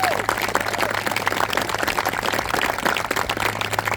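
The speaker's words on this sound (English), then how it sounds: "All right, round of applause, everybody." Audience applause at a veterans' welcome home ceremony during a memorial ride event, a steady, dense patter of many hands clapping in a crowded room, moderately loud, with faint voices and a low hum beneath.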